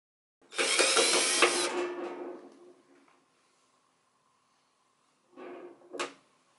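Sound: removing small screws from Red Bull fridge back panel with screwdriver

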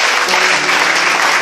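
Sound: congregation clapping for Master Jesus

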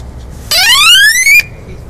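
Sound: bike horn sounding loudly

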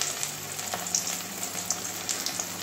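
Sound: frying stuffed teasel gourds in oil on low heat

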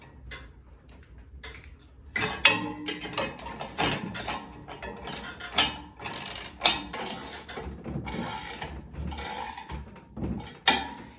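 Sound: ratcheting wrench tightening carriage bolts on disc harrow

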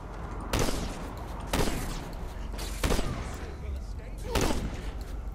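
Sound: shotgun gunfire in Saints Row IV video game

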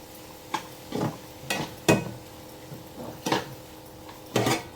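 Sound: stirring jaggery and lentil puran in a pan

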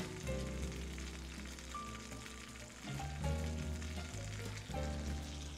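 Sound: steak sizzling in a pan

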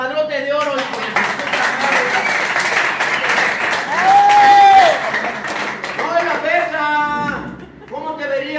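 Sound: applause

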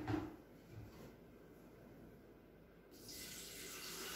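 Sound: water poured into Maunfeld MKF 622BG electric kettle

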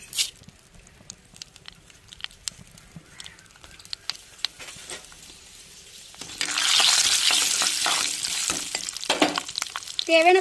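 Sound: fenugreek seeds sizzling in hot oil for tempering fish curry

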